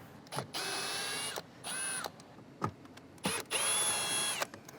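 Cordless power tool backs T20 Torx screws out of an F10 5 Series BMW dashboard with the airbag dropped, in several short, close whirring bursts with rising and falling pitch, separated by brief pauses and faint clicks.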